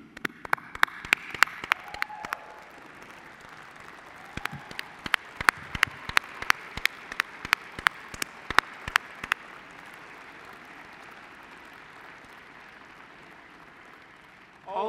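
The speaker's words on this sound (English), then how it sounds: "give them a round of applause for the support they've given you in your journey here" Convocation audience clapping for graduates' families: sparse, distinct claps in a fairly quiet hall that thin out after about nine seconds, leaving low room noise, with a soft voice near the start.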